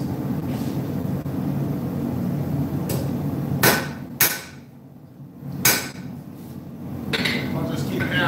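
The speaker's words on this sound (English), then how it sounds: "I'll just keep hammering." Metal hammered at a forge while making Viking runes, a few sharp ringing strikes spaced irregularly over steady background noise, moderately close.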